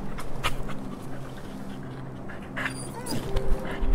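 A dog pants and whimpers close by while someone eats, with soft rhythmic breaths and a few thin high whines, amid light background rustling.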